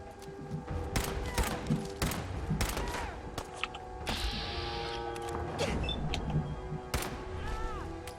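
Enemy gunfire in the video game Fallout 4: a string of sharp, irregular shots, some in quick bursts, cracking over a steady background hum of the game world.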